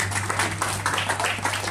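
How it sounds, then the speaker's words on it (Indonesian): An audience applauds at a Maulid Nabi Muhammad SAW gathering in Banyuwangi, a continuous wash of many hands clapping over a low, steady electrical hum. "Tepuk tangan juga untuk rekan-rekan sekalian."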